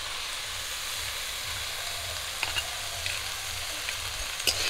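Leafy greens frying in a pan, a steady soft sizzle and hiss with a low rumble beneath and a few faint clinks or stirs near the end.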